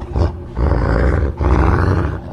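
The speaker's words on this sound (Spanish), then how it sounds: "la profunda respiración se transforma en un sostenido rugido" A deep, sustained beastly roar swells out of heavy breathing for a horror story about a demonic family dog, loud and close, rising in long rumbling waves with brief pauses between them.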